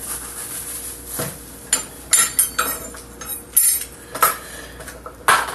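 A knife chops half an onion on a board at home, a close series of irregular sharp knocks and scrapes, some louder thuds spaced unevenly, with no talking.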